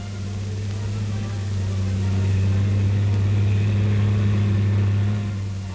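An M-4 tank engine drones low and steady on a beach while it tries to climb granite blocks, the rumble swelling slightly midway and then holding.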